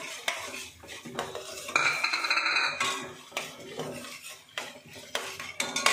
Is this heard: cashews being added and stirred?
yes